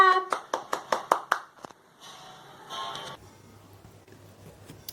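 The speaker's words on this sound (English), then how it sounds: "Clap." Six quick, sharp hand claps in an even rhythm, close and fairly loud, followed by a near-silent pause with only a faint background hum.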